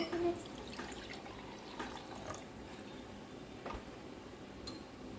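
Vinegar is poured into a pot while making homemade ketchup, a soft close trickle of liquid over faint background noise lasting a few seconds.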